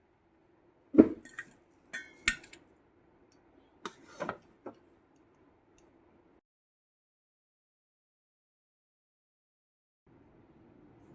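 Cooked semolina halwa being spooned from the pan into a separate bowl: a handful of sharp metal clinks and scrapes, close and crisp, falling quiet for several seconds before a faint rustle returns.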